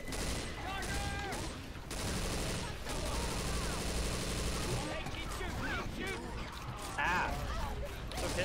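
Gunfire aimed at the Tank in Left 4 Dead 2, a continuous dense barrage of shots from several weapons, with voices talking over the shooting and a few sharper bangs near the end.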